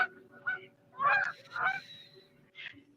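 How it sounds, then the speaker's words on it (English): Geese honking nearby outdoors, a handful of loud, nasal honks in an uneven sequence over a low background hum, with the calls spaced apart and one final shorter honk. "now I'm here looking at them and I'm pretty sure they're geese"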